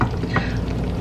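Onions cooking in a pan for chili, a steady close hiss of frying with a faint stir, with no voices.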